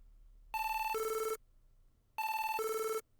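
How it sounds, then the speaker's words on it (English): A synthesized phone-call ring effect in an FL Studio beat sounds twice, each a bright two-tone electronic trill lasting under a second, separated by a short gap of near silence. "we have the phone call effect, and we're going to play it like this"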